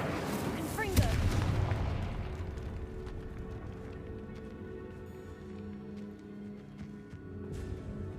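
Incendio and Confringo spells fire in the video game Hogwarts Legacy, a sudden booming blast that rolls into a long rumbling, crackling decay, heard over game music.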